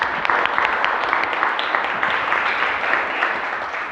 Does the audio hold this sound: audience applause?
yes